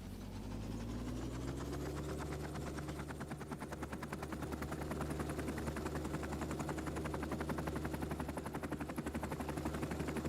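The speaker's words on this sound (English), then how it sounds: "Is the helicopter so broken that it won't go up?" A broken helicopter in The Last Caretaker video game drones with a steady, loud rotor chop and engine whine, its rapid beating rhythm holding throughout without voices.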